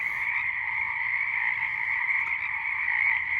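A dense chorus of small frogs croaks at night in late winter or early spring, forming a continuous, fairly loud trilling drone without pauses.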